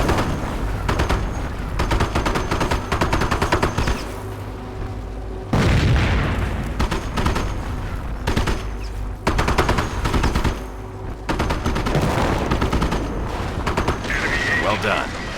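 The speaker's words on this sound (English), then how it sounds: "Firing weapons." Battlefield gunfire from the WWII strategy game Company of Heroes during armor training: bursts of machine-gun fire and heavy booms come in repeated volleys, loud and dense, with brief lulls between, under occasional voices.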